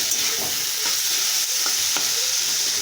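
Lentils sizzling and frying in a pan, a continuous hissing sizzle with a few soft stirring scrapes, close and steady with no talking.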